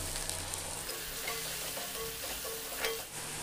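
Whole cumin seeds and chopped onion fry in mustard oil for a Bengali egg bhapa, producing a soft, steady sizzle with faint stirring scrapes, quiet and unaccompanied by speech.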